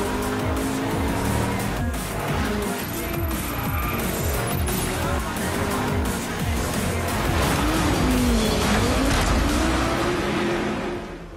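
Racing cars roar in the Driveclub video game on PlayStation 4, a continuous engine drone with rising and falling revs and tire noise, loud and steady throughout.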